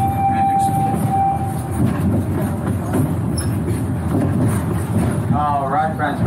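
The Wildlife Express Train at Animal Kingdom rumbles and clatters steadily along the rails, with a brief horn-like tone early on, while a voice speaks over the running noise.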